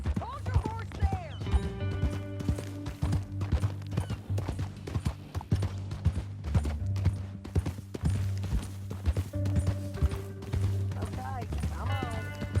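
Rhythmic clip-clop of horse hooves in Red Dead Redemption 2 throughout, mixed with music and occasional voices speaking over it.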